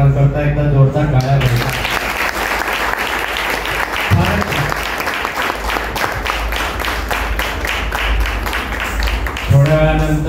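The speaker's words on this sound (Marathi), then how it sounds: "सर्व कलाकारांकरता एकदा जोरदार टाळ्या बजावा।" Audience at a Ram Navami stage performance giving loud, sustained applause for the performers, dense clapping filling the space from start to end with a voice briefly heard near the beginning and end.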